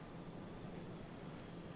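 An F-18 jet's engine in Microsoft Flight Simulator gives a steady, faint, distant-sounding roar that holds evenly throughout, with no voices over it.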